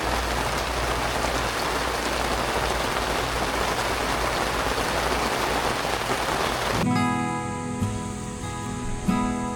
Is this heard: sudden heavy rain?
yes